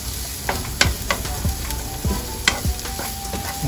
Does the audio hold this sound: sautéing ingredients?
yes